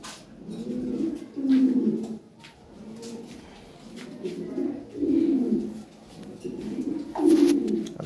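Lahori and fancy pigeons at a Bangladeshi breeder coo nearby in a steady rhythm, low rolling phrases repeating about every second and a half, with faint background noise.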